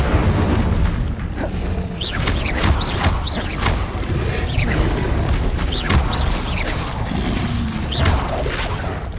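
Fire spells burst out during combat in Hogwarts Legacy, a dense run of booming whooshes and crackling blasts layered over one another with no pause, loud and close throughout.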